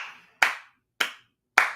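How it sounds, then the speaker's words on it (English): Three crisp hand claps, evenly spaced and close, each a sharp slap that decays quickly into silence. "Leo clapping gif."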